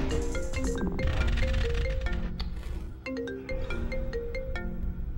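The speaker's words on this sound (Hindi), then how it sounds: "तुम्हारी अम्मी का फोन आ रहा है।" A phone ringtone plays for an incoming call, a steady melodic electronic tune repeating its chiming phrase loudly and continuously from start to finish.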